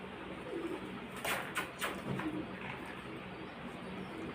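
Pigeons coo softly, with a few low calls under steady outdoor background noise and a brief burst of wing flapping.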